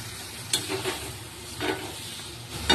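Phuluri lentil fritters stirred in a pan with potatoes, peas and spices, giving a soft sizzle with a few distinct scraping strokes of a spatula spaced apart, fairly quiet and with no voices.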